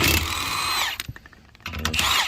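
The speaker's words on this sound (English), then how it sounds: "19mm will run this off a lot quicker on an impact." Impact wrench spinning off lug nuts from a Ford Escape wheel, two loud close whirring bursts separated by brief clatter of the nut coming loose.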